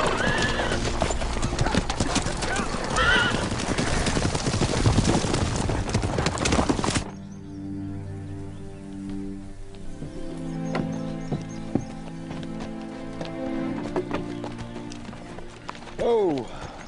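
Horses gallop with rapid, loud hoofbeats and a whinny, then the hooves fade to scattered clip-clops over a quieter, ringing background, ending with another neigh.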